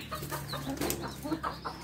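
Chickens cluck softly on a pheasant farm, a few faint scattered clucks and calls over a quiet background with no talking.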